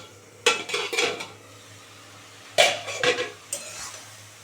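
Spoon scraping and clinking against a covered pot while beet greens are stirred, in two short bursts of metallic knocks and scrapes separated by a quiet pause, with faint kitchen background.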